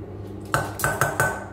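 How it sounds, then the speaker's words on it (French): Spoon scraping the last of melted butter (100 g) out of a bowl for white chocolate cookie dough: four short, close scrapes and clinks of utensil on bowl in quick succession, with no voices. "Je vais essayer de racler le reste"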